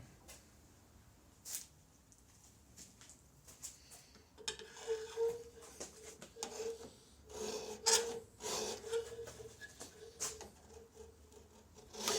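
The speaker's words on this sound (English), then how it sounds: "Obviously just a file taped on a bit of rod here, but does the job" A hand file taped onto a short length of rod rasps in close, uneven strokes, quiet at first and then a steadier run of gritty scraping passes with brief pauses between them.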